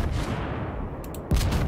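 HMS Warspite's naval guns in World of Warships, a low rumbling backdrop broken by a single loud, deep blast near the end.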